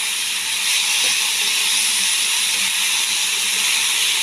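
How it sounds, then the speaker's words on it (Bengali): Broccoli and green peas fry together in a pan, giving off a loud, continuous sizzling hiss that holds steady from start to finish. "এই দুটো একসাথে আমি ভেজে নিচ্ছি"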